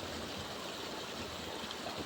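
The stream at Chhota Pachmarhi waterfall near Bhopal, a steady broadband rush of flowing water that continues without break, with no talking.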